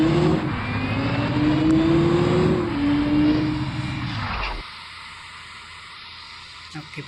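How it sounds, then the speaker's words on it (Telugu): Engine of a Volvo 9600 sleeper bus in a driving video game, a loud continuous drone rising in pitch as it revs before cutting to a quieter idle. "ఇంజిన్ సౌండ్ కూడా వినండి."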